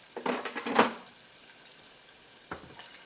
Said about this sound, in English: Now back in the air fryer, the chicken has also been cooking.